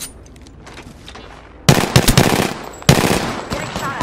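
Automatic gunfire in the Apex Legends battle royale game, two loud, close bursts of rapid shots after a quieter stretch of distant firing, with a faint voice in the background.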